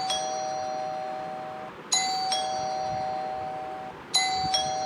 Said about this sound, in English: Let's see a doorbell.